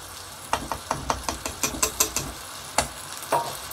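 Cooked basmati rice for egg biryani being gently stirred in a pot, a dozen soft scraping strokes in an uneven rhythm over a faint sizzle, close and fairly quiet.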